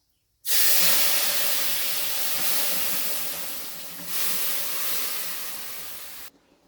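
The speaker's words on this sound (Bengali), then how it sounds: "ফোড়নটা একটু ভাজা হোক, এবারে শুক্তোটা ওতে ঢেলে দেবো" Shukto poured into a pan of hot tempering spices with dried red chillies and bay leaves bursts into a loud, steady sizzling hiss that starts abruptly and holds for several seconds before cutting off.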